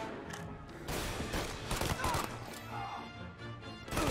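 Gunfire from Mafia Definitive Edition crackles in quick irregular bursts with sharp cracks and clatter, fairly close, mixed with dense game action and no clear talk.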